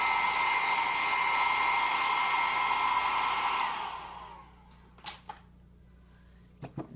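A hair dryer blows steadily and loudly while drying paint on a fur painting, then switches off and winds down, leaving a few faint clicks and taps.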